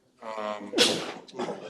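A single sharp sneeze, a quick voiced intake followed by a bright burst, then a brief trailing sound, close and clear.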